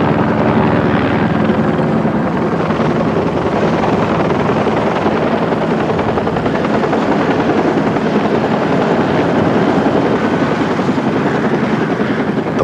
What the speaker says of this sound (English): Flight for Life helicopter arrived from Denver about an hour and a half after the accident.